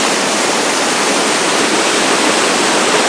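Steady, loud rush of a mountain creek pouring over slippery granite slabs into a pool, a dense continuous roar of water up close.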